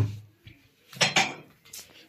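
Washed dishes and saucers clink and clatter as they are handled after a New Year's party, a few brief knocks and rattles close by in a quiet kitchen.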